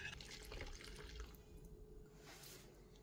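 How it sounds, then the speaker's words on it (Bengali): Liquid plant-spray solution being stirred in a container, a soft sloshing and trickling of water, quiet and close, fading out near the end. "তবে ছেঁকে নেওয়ার আগে আবারও একবার এভাবে মিশিয়ে নিতে হবে"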